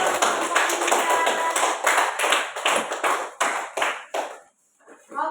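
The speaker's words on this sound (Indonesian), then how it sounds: "Tepuk tangan dulu untuk kelompok" Classmates in a student group give a burst of loud, close hand clapping that starts dense and thins into a few scattered claps before ending.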